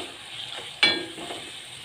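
Onion, crushed garlic, turmeric and green chilli fry in a pan, a soft steady sizzle with one sharp stirring scrape midway, brief and fairly close, no talk.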